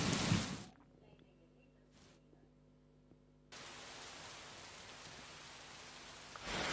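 Heavy rain in Bengaluru makes a broad, even hiss. The rain is faint at first, then becomes a loud, constant wash for the second half.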